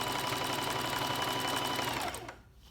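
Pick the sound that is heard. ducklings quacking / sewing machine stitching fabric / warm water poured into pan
sewing machine stitching fabric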